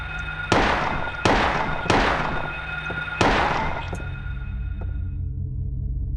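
Four loud gunshots from the video game Silent Hill 1, fired close in an uneven rhythm, each a sharp crack with a ringing tail that fades slowly over a steady low hum.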